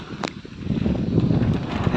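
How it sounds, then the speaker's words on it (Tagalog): Strong wind buffets the microphone by the Abuan River in a continuous low rumble, with a brief higher gust or splash near the start. "lakas ng hangin"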